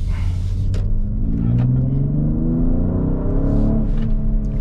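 Mercedes GLC 43 AMG engine heard from inside while being driven aggressively: a loud, deep rumble whose pitch climbs and falls through gear changes, with a few brief clicks and no talking.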